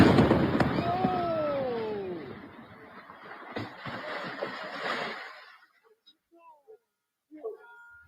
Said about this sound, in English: Let's go ahead and take a listen to how this explosion sounded.